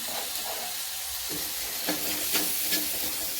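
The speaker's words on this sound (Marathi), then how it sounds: "कोथिंबीरला पण छान असं परतून घ्यायचं फोडणीमध्ये" Mixed vegetables and coriander sautéing in hot spice tempering, a soft steady sizzle with a few faint stirring scrapes near the end.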